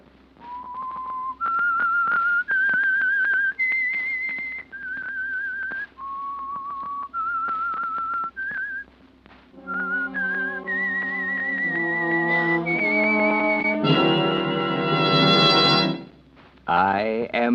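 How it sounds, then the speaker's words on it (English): A lone whistler carries the melodic signature tune of the radio mystery series The Whistler, sponsored by Signal Oil, in clear sustained notes climbing in steps, later backed by swelling orchestral music. "That whistle is your signal for the Signal Oil Program"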